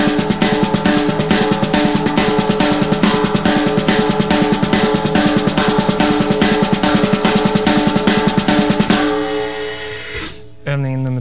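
A fast, steady stream of drum strokes played with the hands as drum exercise number 1. The dense rhythmic hits are loud and continuous, then stop near the end, followed by a brief other sound.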